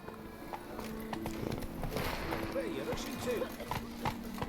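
Horse hooves clip-clop at a steady trot in The Witcher 3, close and clear, with occasional vocal-like tones and a game voice speaking over the hoofbeats.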